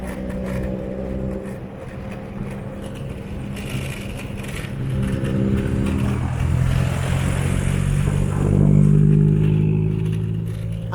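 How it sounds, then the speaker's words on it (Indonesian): Several large vehicles roll past on a village road in Simpang Naneng, their engines rumbling loud and close, swelling as one passes near the end. "Ada banyak sekali mobil-mobil besar yang lewat."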